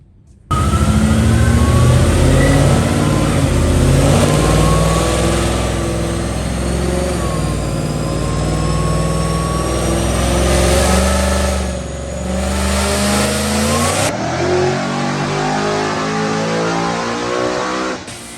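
A supercharged Whipple Mustang engine roars on a dyno, spinning a 30-inch tall tire through a long, loud pull. Its pitch climbs steadily and a high supercharger whine rides over it before the engine cuts off near the end.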